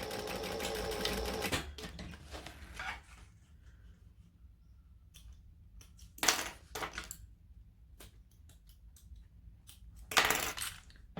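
Domestic sewing machine stitching fabric for a crossbody bag, a loud close whirring run at the start, then quieter handling with a couple of short sharp bursts of stitching later on.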